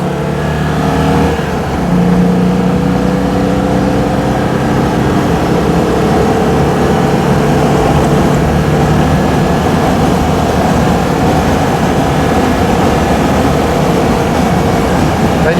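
Steady broadband road rumble and engine drone from inside a moving Citroën 2CV, continuous and loud throughout, with no talking.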